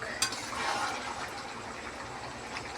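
Chicken pieces being cooked on a charcoal fire are stirred and sautéed in a pan, making a soft continuous sizzle broken by light scraping stirs and a small clink near the start.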